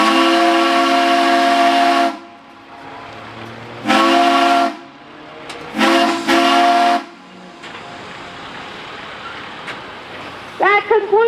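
Loud steam engine whistle blasts at an outdoor steam show held alongside a garden tractor pull, three long sustained blows with gaps of crowd noise and hiss between, plus a short rising toot near the end.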